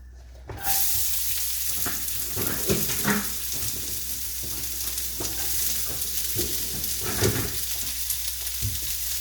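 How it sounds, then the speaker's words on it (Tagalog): Onions sautéing in hot oil in a pan for beef mechado, a loud sizzle erupting as they hit the oil, then a steady crackling hiss with intermittent scraping stirs. "now we're going to add some onions"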